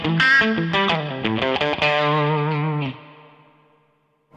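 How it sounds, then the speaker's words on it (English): Fender American Deluxe Stratocaster played overdriven through the bridge pickup, a few quick picked notes leading into a sustained distorted chord that rings out loudly with echo and slowly decays to silence. "We've got quite a lot of drive there and a fair amount of volume, but we're on the bridge pickup."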